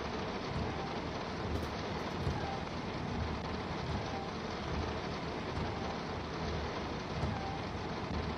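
Steady rain pours in Train Sim World 2 while driving a Class 377 train on the East Coastway, a dense, even hiss of falling drops that holds at a constant level throughout, with no voices over it.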